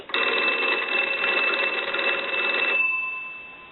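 A wooden crank wall telephone's bell ringing on a signal from a test analyzer: one loud, continuous metallic trill lasting nearly three seconds, close by, then cutting off to a faint hum.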